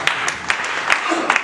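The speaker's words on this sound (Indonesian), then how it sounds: "Kita beri tepuk tangan." A church congregation applauds during a sermon, with scattered claps over a continuous wash of clapping, moderately loud, and a voice speaking over it.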